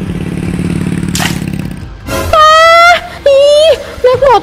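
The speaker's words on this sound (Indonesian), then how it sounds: "Naik motor tuh pelan-pelan." An animated motorcycle speeds past with a steady buzzing engine drone that cuts off abruptly, followed by loud, wavering cartoon voice sounds.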